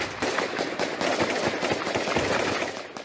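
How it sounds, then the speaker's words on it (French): Sustained heavy gunfire from a police tactical unit's assault on a besieged printing works in Dammartin-en-Goële, a dense, continuous barrage of overlapping cracks and bursts filling the whole stretch, loud and chaotic with no pause. "Des tirs nourris."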